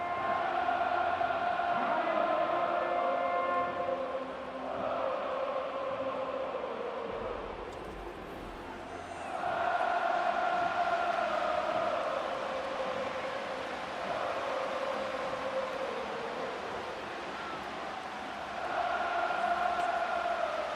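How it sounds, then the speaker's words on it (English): Stadium crowd roar in the Madden 25 football video game, Chiefs against 49ers: a steady, droning wall of massed voices that swells and dips slightly, with a brief lull midway, continuing without break throughout. "This crowd doing all they can."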